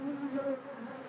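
Young honeybees swarm over hive frames, making a close, continuous hum with slight shifts in pitch and no voices.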